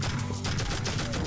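Rapid bursts of gunfire from the video game Tribes: Vengeance, in a dense, loud volley of overlapping shots with no gaps.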